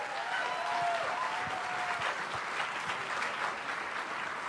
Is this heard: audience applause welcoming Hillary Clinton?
yes